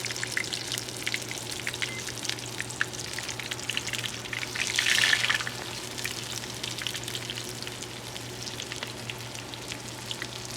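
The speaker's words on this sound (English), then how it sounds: "It's burn because my oil is so hot." Chicken schnitzel fries steadily in very hot oil, a continuous bubbling sizzle with a brief louder crackling swell midway, heard close up and alone.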